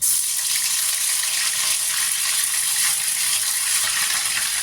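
Ginger and cumin paste sizzling in hot oil with cloves, cardamom and cinnamon, a steady, loud, bright hiss and crackle of frying that stays even throughout, without speech.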